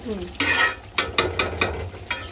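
Potatoes sizzle in a frying pan while a utensil stirs them in about six quick, close scraping strokes over the steady crackle of hot oil.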